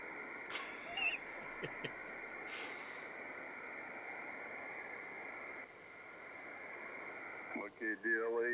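An HF amateur radio receiver hisses with steady static, broken by faint tones and brief chirping signals, with a short burst of distorted modulated sound near the end.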